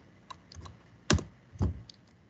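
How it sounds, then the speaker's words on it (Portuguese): Quiet clicks of a computer keyboard: a few light taps, then two sharper, louder strikes about half a second apart, like a key such as Enter being pressed. "Aí, aí dá Enter"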